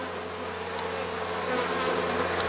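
Honey bees buzz densely and continuously at an open hive, a close, loud, unbroken drone of many insects throughout.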